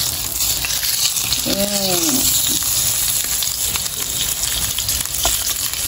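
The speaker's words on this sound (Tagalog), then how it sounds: "Piprito natin siya dito." Steady crackling sizzle of pork frying in hot oil in a pan for pork caldereta, with a brief voice murmuring partway through.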